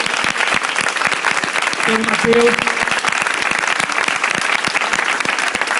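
Dense audience applause filling a hall, sustained clapping from many people at close range, with a voice speaking briefly over it.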